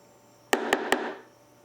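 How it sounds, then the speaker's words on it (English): A damaged rugged hard drive gives three quick, evenly spaced sharp beeps close by, each short pulse followed by a brief fading ring, then quiet. "No, it's just beeping."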